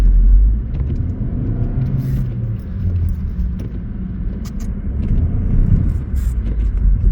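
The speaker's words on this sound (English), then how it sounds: "now let's do the acceleration test." Car on Linglong Chinese winter tires accelerating in a tire test, a loud, close engine and road rumble that holds steady and builds slightly near the end, with no voices.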